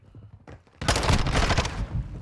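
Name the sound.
shotgun firing in a video game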